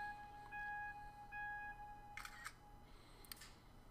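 A simulated camera shutter click from the Photo Booth app on a computer, a single crisp snap followed by a faint second click, quiet and close against a low background hum.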